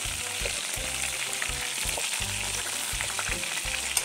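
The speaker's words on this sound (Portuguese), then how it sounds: "Começou já a fritar." Pieces of pork frying on a stovetop pan give off a continuous crackling sizzle, close and steady, with scattered pops and light stirring.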